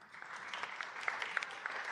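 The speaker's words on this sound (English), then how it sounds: "If we could all make them feel welcome and give them a round of applause." Audience at a city Board of Aldermen meeting applauds honored guests, a faint, steady patter of many hands from across the room, fairly distant.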